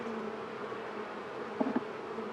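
Honeybees disturbed in their hive make a steady, dense buzzing hum, close and continuous, with a couple of brief louder buzzes as individual bees pass nearby.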